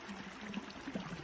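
A small stream flows and trickles steadily close by outdoors on a morning, a continuous soft pouring and burbling with no voices.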